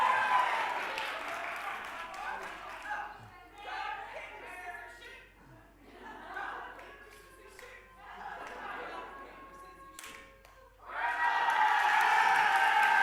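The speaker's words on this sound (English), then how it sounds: "Keep cheering as loud as you can" A conference crowd cheers in several rising and falling waves of mixed shouting, clapping and laughter, dipping between bursts, then erupting into a loud, sustained roar near the end.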